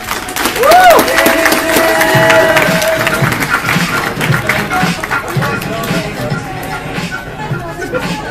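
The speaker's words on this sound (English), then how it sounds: "let's give Garrett Schrock a huge round of applause" A live event audience gives Garrett Schrock a round of applause and cheers, with crowd noise sustained and fairly loud from start to finish.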